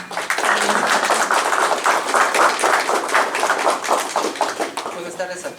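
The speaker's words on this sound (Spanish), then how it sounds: "Un aplauso para el doctor, por favor." An audience claps for a doctor at a talk on sustainable urban housing, the applause dense and sustained throughout, with scattered voices mixed in.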